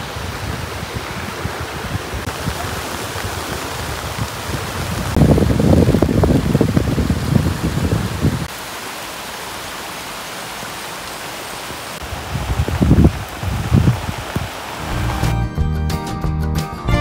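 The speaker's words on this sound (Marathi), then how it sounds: "हा बघा एक धबधबा दिसला आता कॅमेरामध्ये." A waterfall in heavy monsoon rain near Gadeshwar Dam, a loud broadband rushing roar that swells and eases, with stretches of steady rain hiss between the louder surges.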